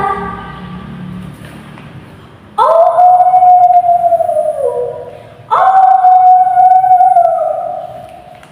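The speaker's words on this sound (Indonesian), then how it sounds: "2 ekor serigala" Two long wolf howls ring out one after the other, each rising and then slowly falling, loud and close over a quiet background.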